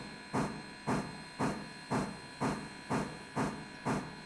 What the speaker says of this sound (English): The train sounds good too.